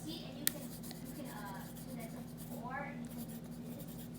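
A 2B graphite pencil scratches on paper in short close strokes over a steady low hum, with a sharp tap early on.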